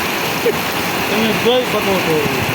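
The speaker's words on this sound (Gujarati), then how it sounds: "અતિ ભારે વરસાદ પડી રહ્યો છે" Very heavy rain with wind pours down in a dense wash of noise in Vejalka village, Gujarat, while people talk briefly over it.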